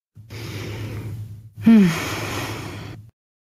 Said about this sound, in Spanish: Respiración 2.